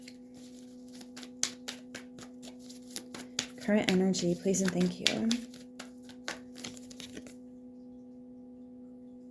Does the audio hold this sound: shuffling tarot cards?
yes